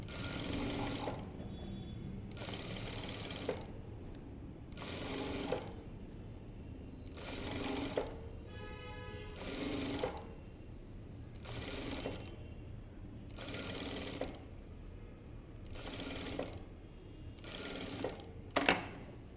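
A sewing machine stitches a blouse seam in repeated bursts of rapid mechanical clatter, each run lasting about a second with short pauses between, close and steady, with no talking.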